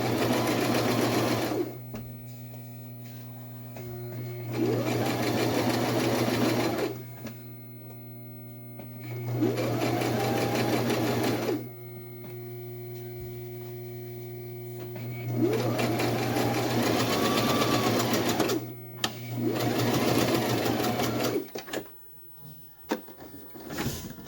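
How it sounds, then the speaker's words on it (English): Bursts of sewing machine stitching, a steady rapid whirring hum that runs for several seconds, pauses, then starts again, four runs in all, close and loud. "So let's get to sewing and sew this together."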